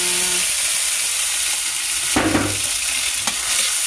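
Pancit canton noodles with Century Tuna stir-fried in a pan, giving a steady, close hiss of frying with brief scraping and clattering stirs, and no voices.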